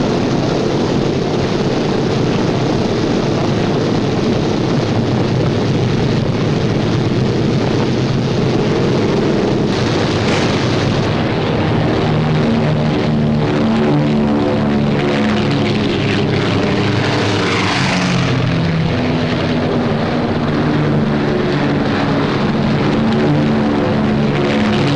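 WWII B-17 Flying Fortress and Liberator bombers taxiing for takeoff, a loud steady roar of piston engines and propellers throughout, with droning engine tones rising and shifting midway.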